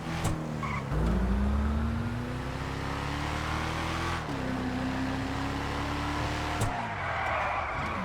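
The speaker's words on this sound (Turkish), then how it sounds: "Abi biraz drift yaptım arabanla" A car drifting in GTA Online, its engine droning steadily as the tires squeal in a long sustained skid with a few shifts in pitch, loud and close with no talking.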